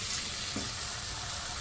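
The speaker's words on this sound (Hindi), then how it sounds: "इसको हम थोड़ा सा फ्राई करते हैं पहले ऑयल में ताकि इसका कलर चेंज हो जाए" Boneless chicken pieces frying in hot oil make a continuous bright sizzle with a few soft stirring scrapes, close and alone.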